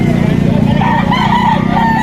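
Roosters crow over a steady hum of a busy chicken market in Lipa, Batangas, with engine noise and murmuring voices filling the background.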